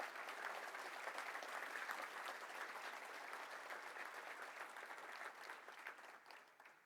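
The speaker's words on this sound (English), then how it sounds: "Could we please give them all a round of applause?" Warm, sustained round of applause from an audience at a Rotary event, steady crowd clapping that carries on for several seconds before fading toward the end, with no speech over it.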